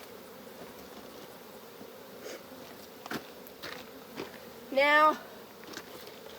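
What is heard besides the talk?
honey bees buzzing around hive frame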